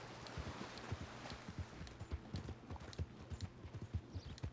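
Horse hooves clop in a steady galloping rhythm through water in Red Dead Redemption 2, each strike carrying a wet splash, quiet and continuous over a soft watery hiss.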